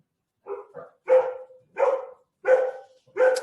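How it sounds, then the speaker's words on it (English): Several dogs bark in repeated loud bursts at a lakeside home, about five close, sharp barks spaced roughly half a second apart with no talking. "Not the best time, sorry guys, for the dogs to be barking"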